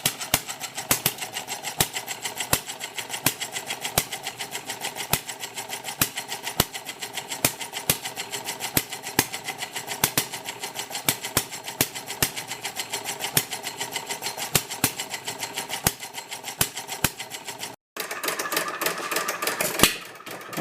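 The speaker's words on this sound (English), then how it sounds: "Eclipse half-scale model engine" A half-scale Eclipse model hit-and-miss engine runs alone, its sharp, evenly spaced firing clicks ticking steadily for a long stretch before a brief cut and a louder, busier section near the end.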